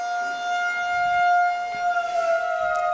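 Outdoor civil-defense warning siren sounding at a boys lacrosse game, a steady loud two-tone wail held throughout with faint crowd ambience beneath and no speech.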